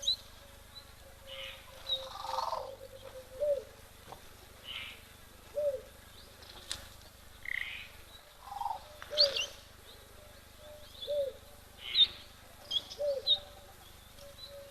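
Soft repeated cooing of a mourning dove at a waterhole, brief calls recurring every second or two among other bird chirps, fairly distant and faint over a steady background hum.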